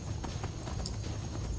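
A horse gallops in the video game Skyrim, its hooves giving a quick, even clip-clop rhythm over a dense rumbling background, with no talking.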